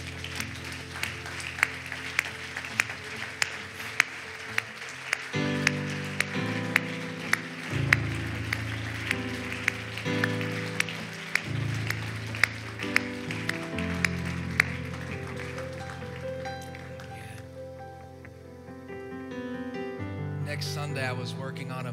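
A church congregation claps hands in praise on a steady beat over sustained keyboard or organ chords and music, the claps sharp and regular through most of the passage before the music thins near the end.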